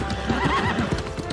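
A horse mount in the video game New World trots with steady clip-clop hoofbeats and whinnies, sounding loud and close throughout with no talking.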